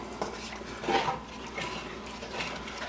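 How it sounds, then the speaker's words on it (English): Utensil scraping and clinking in a pan as shrimp curry with stock is stirred, a few soft scrapes and knocks close by over a steady low background. "stir this around for a minute"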